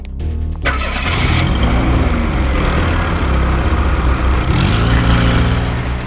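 A car engine starts and revs loudly, a steady mid-range mechanical roar filling the whole stretch with rising and falling pitch sweeps, no voices over it.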